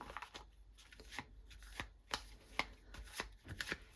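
Tarot cards being shuffled by hand, a close run of crisp riffling and tapping bursts in an uneven rhythm, with no voices.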